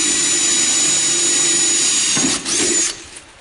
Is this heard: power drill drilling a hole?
yes